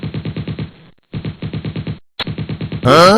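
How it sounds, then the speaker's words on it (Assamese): Cartoon machine-gun fire from a skeleton ghost crackles in rapid, evenly spaced bursts of about eight shots each, separated by short silences, ending in a louder whooshing effect. "এয়া দেখোন ভূতে গুলী মাৰিছে"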